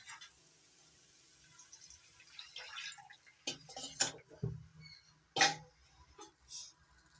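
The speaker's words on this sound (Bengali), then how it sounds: "এবার দিয়ে দিচ্ছি গুলে রাখা মিশ্রণটা" A cornflour slurry is poured into a pan of cauliflower manchurian gravy, producing soft, scattered sizzles and splashes in a few short bursts over quiet background.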